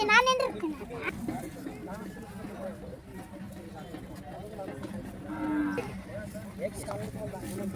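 A desi cow moos several times, nearby and fairly loud, with people talking and farmyard noise around it at an agricultural festival.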